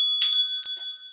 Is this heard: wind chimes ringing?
yes